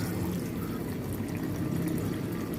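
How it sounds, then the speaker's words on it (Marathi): Water pouring steadily into a pot, a continuous splashing gush that stays even and fairly close throughout, with no voices. "आता पाणी घालून आपण उकळून घेऊया"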